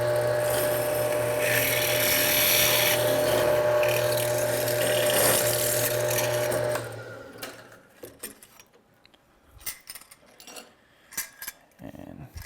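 A drill bores a hole through aluminum, a loud steady whine for several seconds that then stops, leaving scattered clicks and handling noises near the mic.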